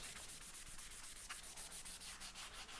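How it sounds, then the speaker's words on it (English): Steady scratchy rubbing of 360 grit sandpaper on sealer, a continuous close-up hiss with slight rhythmic pulses from back-and-forth strokes. "this 360 grit is definitely my main sanding stuff when I'm sanding sealer"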